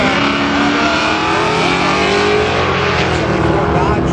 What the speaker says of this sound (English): 32 Ford Coupe with a blower on top of a big block